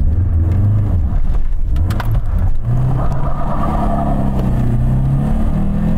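The small petrol engine of an Alfa Romeo 33 drones loudly from inside the car while driving, its pitch rising and falling as it pulls through the revs.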